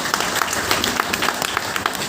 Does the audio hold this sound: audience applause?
yes